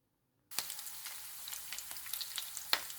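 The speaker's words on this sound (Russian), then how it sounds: "Так, сначала растапливаю жир." Horse fat melting in a hot pan for Yakut pilaf starts sizzling abruptly, a close, steady crackling fry with scattered sharp pops and spits.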